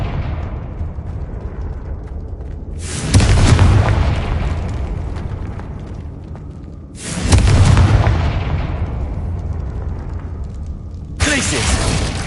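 Confringo spell blasts in Hogwarts Legacy, three loud booming explosions spaced a few seconds apart, each decaying slowly over constant game background noise.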